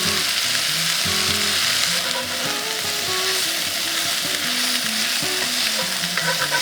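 Food caramelizes in a pan over a campfire with continuous, bright sizzling and occasional stirring scrapes, steady and close without any talk.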